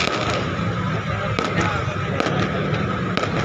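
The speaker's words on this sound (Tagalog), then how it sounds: "Ayan na, magkakaputukan na po. Ayan na, sisimulan ng putukan." Chinese New Year fireworks at Jones Bridge, heard as loud crackling bursts and pops against a dense roar of a crowd, with voices talking throughout.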